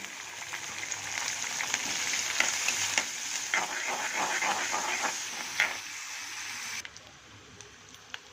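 Cinnamon, cardamom and cloves sizzle in hot groundnut oil for a prawn thokku masala, a steady close hiss dotted with stirring clicks that drops away abruptly near the end.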